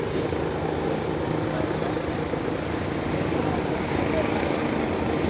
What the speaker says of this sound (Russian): Вы наблюдаете прибытие к месту аварии санитарных вертолетов ПО-105 и ПК-117 для экстренной эвакуации пострадавших.